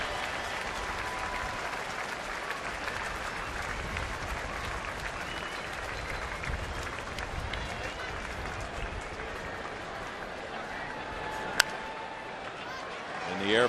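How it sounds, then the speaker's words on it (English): A ballpark crowd gives a standing ovation as former President Bush leaves during a Cubs at Houston baseball game, with dense, sustained applause and clapping that hold steady throughout. "The customary standing ovation when they leave."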